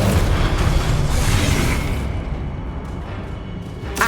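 A fire spell cast in the video game Hogwarts Legacy: a loud, dense burst of roaring, crackling flame that swells at once, then slowly thins into a fading rush, with a fresh flare at the very end.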